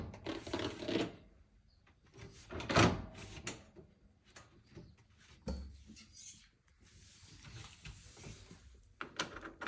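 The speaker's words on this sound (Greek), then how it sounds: "Και πάμε να ξανατοποθετήσουμε την πόρτα στη θέση της." A Neff Slide&Hide oven door being put back onto its hinges, giving a series of scraping, rubbing and knocking sounds of metal and glass handling with a few louder bumps, close by and without speech.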